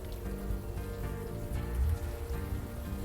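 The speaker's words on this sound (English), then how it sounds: "doing this in the rain is not the best idea." Rain falls steadily at night in the Unavowed game, a continuous wash of drops on surfaces, moderately loud and even, with a low musical hum beneath and no speech.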